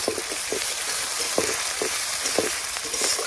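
Fish or spices frying in a pan at home for a Bengali boal (wallago catfish) curry, a steady close sizzle broken by scattered scraping and clinking of a utensil.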